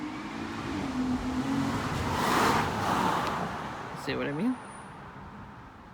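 A car speeds down a residential street, its engine swelling to a peak as it passes and then fading, while someone talks nearby.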